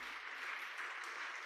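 A church congregation claps during a sermon, giving a brief, dense, continuous wash of applause at steady volume from many hands with no voices over it.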